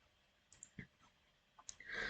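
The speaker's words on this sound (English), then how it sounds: "Now I will click next." A few faint, sharp clicks of a computer mouse spaced apart in a quiet room, with a brief louder rustle at the end.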